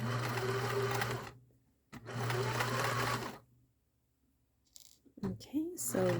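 A sewing machine stitching a dart in fabric, two loud steady runs of rapid mechanical whirring close by, separated by pauses, followed by a brief quiet spell and some fabric handling.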